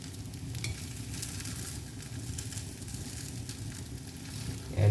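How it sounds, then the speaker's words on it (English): Vegetable takoyaki balls frying in a pan, a steady close sizzle with soft stirring and scraping as they are turned, continuous with no talk. "So I've just spent a few minutes turning the takoyaki balls."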